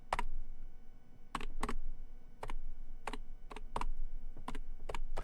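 A computer keyboard is typed on in scattered, crisp keystrokes, about a dozen irregular clicks, some in quick pairs, over a quiet room hum.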